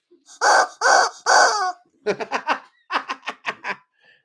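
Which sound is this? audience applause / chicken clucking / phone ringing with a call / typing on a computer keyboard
chicken clucking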